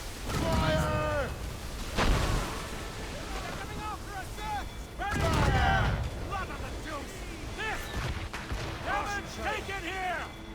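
Ship cannons boom in an Assassin's Creed Rogue naval battle, several heavy blasts spaced across the scene amid wind and waves, with crew voices shouting throughout.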